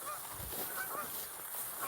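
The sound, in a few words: geese honking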